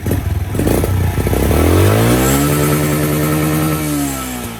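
A tuned motorcycle engine blips and revs up hard and close, the pitch climbing steeply before the rev-limiter cut holds it, sputtering and stuttering at the top; the limiter is set to cut mode 3.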